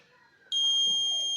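A sharp, steady electronic beep from an automatic irrigation system's soil moisture buzzer starts abruptly and holds at a piercing high pitch, loud and close, like an alarm buzzer going off.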